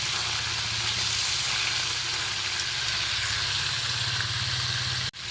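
Pieces of marinated chicken fry in a pan of hot oil, giving a steady, dense sizzle that stays loud and even throughout, with a single brief knock near the end and no talking.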